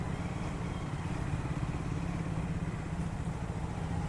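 A Triumph Scram 400 motorcycle, a 400cc single, revving on a test ride in traffic, its engine drone steady and close with a faint knocking, no voices.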